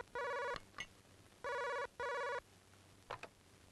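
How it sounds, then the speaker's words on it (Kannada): An indoor telephone rings in three short electronic bursts, a brief one followed by two back-to-back rings, quiet and nearby, with a few soft clicks and knocks in between and no one speaking. "ಆ ಫೋನ್ ಎತ್ಕೋ"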